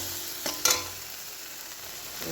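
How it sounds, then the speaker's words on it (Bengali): Spices with turmeric, chilli powder, ginger and salt sauté in a pan as a soft, steady sizzle, broken by two short scraping stirs near the start and another near the end. "মশলাটা কষিয়ে নেবো"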